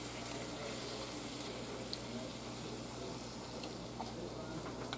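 Food simmers and sizzles steadily in a pan over an open flame, a continuous close crackling hiss.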